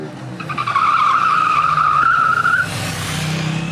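A 2021 KTM 890 Duke's rear tyre skids under hard braking: a loud, close, sustained squeal lasting about two seconds, then fading into engine and road noise.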